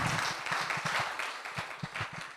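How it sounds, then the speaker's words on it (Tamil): Applause from an audience at a Thyagaraja Aradhana music festival: a broad wash of clapping with scattered louder claps, steady across the short stretch and moderately distant. "ஒரு பலத்த கரகோஷத்தோடு நம்ம நன்றியை தெரிவித்துக் கொள்வோம்."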